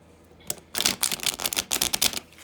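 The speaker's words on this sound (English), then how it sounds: "I'm just going to shuffle for you guys so you guys see that I shuffle the cards." Rapid riffling clatter of cards being shuffled up close, a dense burst of crisp flicks after a brief quiet start.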